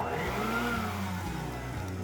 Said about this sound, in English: the vacuum is actually controlled by a switch